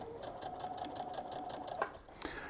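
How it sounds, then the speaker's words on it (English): A sewing machine runs steadily stitching quilt fabric pieces, its rapid needle rhythm close and fairly quiet, with a couple of small clicks near the end and no speech. "So I might sew this one,"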